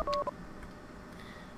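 Telephone keypad dialing in Max Payne 2: a few quick beeping tones close together at the start, then a quiet room tone.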